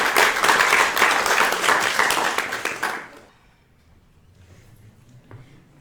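An event audience bursts into dense, loud applause for a speaker being introduced, holding steady for about three seconds before cutting off sharply into quiet room tone.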